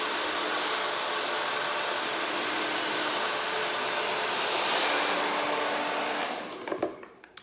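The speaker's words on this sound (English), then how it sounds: "So I taught myself how to blow dry my hair so I don't need to use a flat iron." A hair dryer blows steadily and loudly as hair is blow-dried to bend and wave it, a continuous whooshing roar that cuts off near the end, followed by a few handling clicks.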